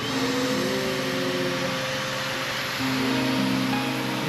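Electric pump inflating an inflatable hot tub, a constant loud whirring drone with a steady hum that shifts pitch slightly partway through, no talking.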